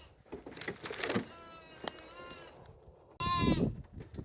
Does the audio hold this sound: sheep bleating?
yes